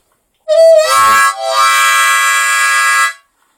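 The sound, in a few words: harmonica draw bend, wow technique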